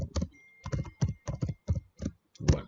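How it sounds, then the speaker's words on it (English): Close keystrokes on a computer keyboard, a series of distinct taps and short clattering bursts with brief pauses between them and no talking. "I hope this my keyboard will not make too much noise."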